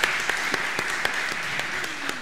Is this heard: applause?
yes